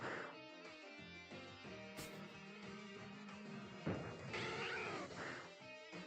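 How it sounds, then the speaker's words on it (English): A pet cat meows a few times, clear and close, over a dense layer of background music and faint voices. "We have 2 kittens and 5 feral kitties."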